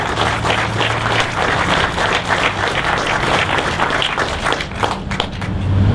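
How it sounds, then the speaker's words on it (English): A crowd applauds steadily and fairly loudly at the opening ceremony for the City Place office complex in Barre, with dense clapping throughout and no talking. "if we could just give them a hand of applause"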